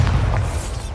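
A Bombardo explosion spell going off in the video game Hogwarts Legacy, a single deep, sustained booming blast with a low rumble that fills the whole moment at close range, with no talking.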